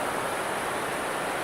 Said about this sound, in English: The waves are big.